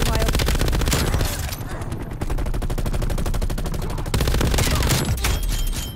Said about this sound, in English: I'm really better off hip firing this weapon.